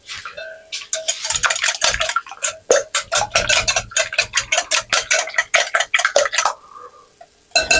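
A whisk or fork rapidly beats an egg and milk mixture in a bowl, producing a steady train of close, sharp clinks and ticks against the bowl's sides.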